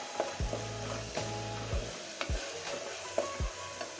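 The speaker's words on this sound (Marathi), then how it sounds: "कांद्याची पेस्ट आपण लाल गोल्डन कलर येईपर्यंत फ्राय करून घेऊया तेलामध्ये" Onion paste frying in oil for chole, with a soft sizzle under repeated scraping strokes of a spoon stirring against the pan, several thuds spaced through the stretch.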